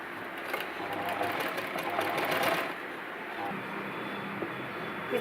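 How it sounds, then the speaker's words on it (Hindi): A sewing machine stitches a blouse back neck design, its fast rhythmic whir running steadily and close, pausing briefly midway before resuming. "इस तरह से सिलाई लगा ले और जो कॉर्नर होते हैं उस पर हमें एक कट लगाना है"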